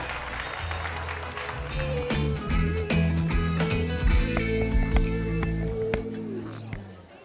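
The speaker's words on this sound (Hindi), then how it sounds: "अब तालियां कौन बजाएगा?" A crowd at a birthday party claps steadily in a dense, continuous burst of applause, close and fairly loud, while people talk over it.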